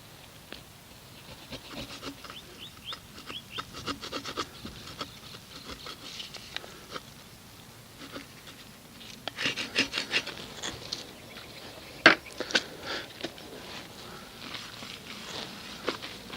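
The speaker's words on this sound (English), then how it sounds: "take my scraper and just work the adhesive off" A scraper rubs and rasps adhesive off a wheel, a quiet, irregular scratching with brief louder scrapes toward the middle and a sharp click near the end, with no voices.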